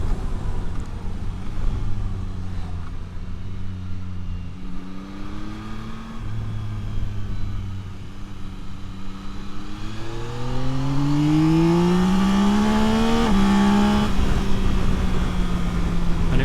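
A 2025 Yamaha Tracer 9 GT+ sports touring motorcycle's engine idles with a low hum, then revs up in rising, climbing pitch sweeps, loud and close, ending in a sustained high rev.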